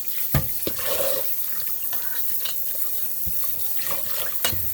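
Corned beef rinsed under a running kitchen tap, a steady close hiss and splash of water with a few sharper knocks and spatters as the meat is handled.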